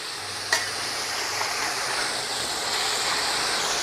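A block of Philly cheesesteak ball meat mixture is turned over in a hot pan, giving a steady, loud frying hiss with a short knock near the start as it flips.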